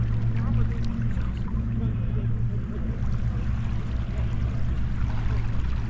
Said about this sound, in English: Do hope you can hear the water.